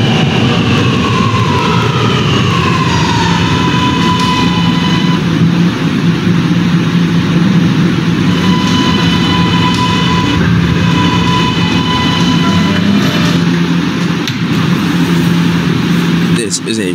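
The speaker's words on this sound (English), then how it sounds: "This is a Ridgeworth Island bound R train via the N line." An R subway train stands at a station, its heavy, loud, continuous rumble and hum running throughout while an onboard announcement voice speaks over it.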